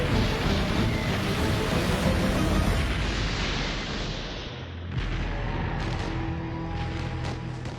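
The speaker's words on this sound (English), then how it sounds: "every Japanese soldier with a mortar, machine gun, or a piece of artillery will now start to shell the landing beach" Artillery and mortar shelling pounds a landing beach in a dense, continuous roar of blasts and rumble, loud and close for several seconds, then thinning into scattered sharper bursts and distant booms.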